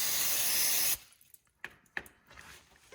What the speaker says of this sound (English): Nice little spray down,